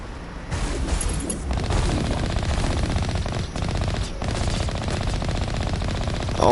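A vehicle's main gun fires in Mass Effect, a loud, unbroken stream of rapid automatic shots with heavy booming impacts that runs almost the whole time.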